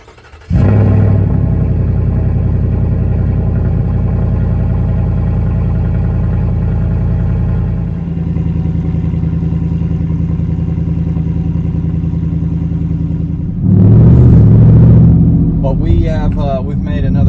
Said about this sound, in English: Gonna be our first cold start.